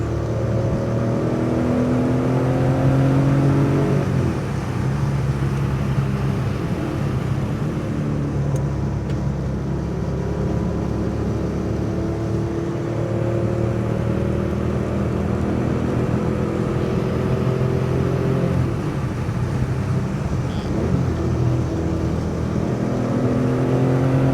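A 1973 Porsche 911S engine hums steadily while cruising in fifth gear, a continuous low drone with mild rises and dips in pitch, close and fairly loud throughout.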